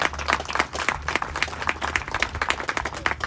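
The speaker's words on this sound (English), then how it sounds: "So please give yourselves a round of applause." An outdoor crowd at a NAMI Walks mental-health awareness event in Santa Fe breaks into loud, dense applause, many hands clapping close by in a steady, continuous burst.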